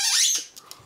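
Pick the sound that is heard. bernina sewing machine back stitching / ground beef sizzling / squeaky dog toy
squeaky dog toy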